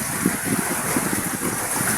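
Rushing wind buffets the microphone over the churn of choppy sea water during bad weather, a constant roar with low thumping gusts.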